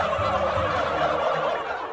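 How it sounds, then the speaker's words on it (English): Several turkeys gobble together in a brief, warbling chorus, close and moderately loud. "he brought all his turkeys"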